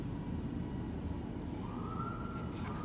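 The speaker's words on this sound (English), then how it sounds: "Oh, let's get the sirens now." A siren wails faintly outside, a rising tone emerging in the second half over steady low background noise.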